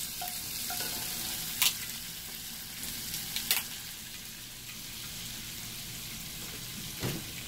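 Lobster tail frying in a pan, a steady soft sizzle with a few brief sharp clinks of utensils, quiet and continuous without talk.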